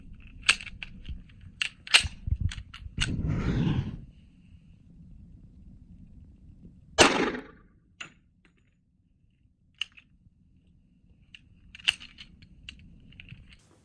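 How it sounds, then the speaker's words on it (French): .45 ACP Federal Gold Dot rounds are fired into a ballistic panel outdoors: two sharp, booming reports several seconds apart, surrounded by scattered clicks and small handling knocks. "On va passer maintenant au 45 ACP avec des cartouches pareilles Gold Dot de chez"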